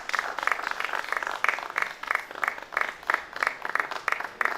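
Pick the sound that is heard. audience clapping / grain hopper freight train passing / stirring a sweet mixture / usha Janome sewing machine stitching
audience clapping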